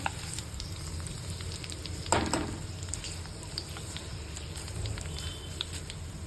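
Curry leaves fry until crisp in hot oil for a Marathi bitter gourd chutney, giving a steady close sizzle and crackle, with a louder burst of spattering about two seconds in as more leaves hit the oil.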